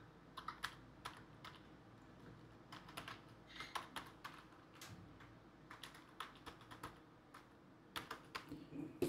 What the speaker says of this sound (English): type in your account name and password and then click on sign in